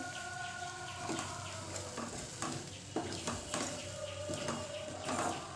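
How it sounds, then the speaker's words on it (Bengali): A spoon stirs boiled masoor dal in a pot as the leftover water cooks off, making soft repeated scraping and light sizzling strokes close by, with no talk. "যেটুকু জল আছে এবার আমি নাড়তে নাড়তে জলটা শুকিয়ে নেব।"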